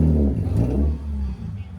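BMWs at a cars and coffee meet in St. Petersburg rev loudly and close by, the engine note swelling and easing across the moment with a faint voice beneath.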